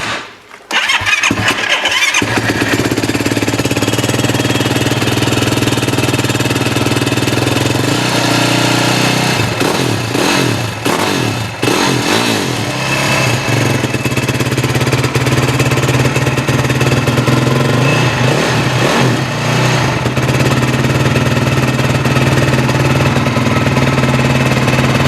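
Yamaha YFZ 450 quad bike, started cold, cranks and fires with a sharp bark, then settles into a loud, lumpy idle broken by several quick throttle blips and revs, close up and continuous for the whole stretch.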